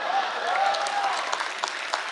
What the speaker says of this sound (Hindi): तालियां जोर से बज लीजिए